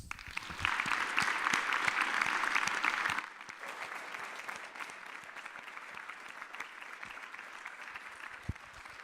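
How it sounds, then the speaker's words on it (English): An audience applauds at a meeting, a dense burst of clapping that drops after about three seconds to lighter, scattered claps continuing to the end. "I'd like to propose a huge round of applause."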